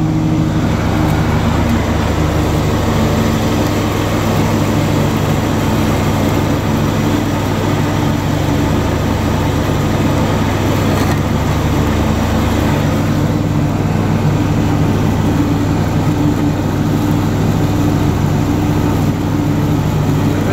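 A Simplicity Broadmoor SLT300 lawn tractor engine runs with its mower deck engaged, giving a loud, steady drone at constant revs with no dips or sputters.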